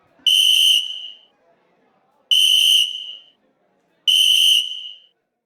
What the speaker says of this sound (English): blows a silver medal referee's whistle as hard